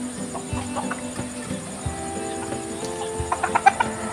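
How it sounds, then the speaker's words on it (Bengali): Free-range chickens clucking on a farm, several hens giving scattered short clucks and calls at moderate distance over a steady background hum. "আমাদের এই মুরগিগুলো বাইরে চড়ছে"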